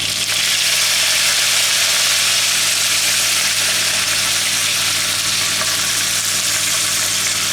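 Curry leaves for tomato rice sizzle in hot oil in a pan over a medium gas flame, giving a loud, continuous crackling hiss close by with no talking.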